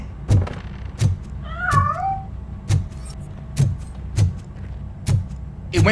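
Regular heavy thumps repeat through a scene in the video game RoboCop: Rogue City, with a single short, wavering cat meow near the middle, faint and set among the knocks.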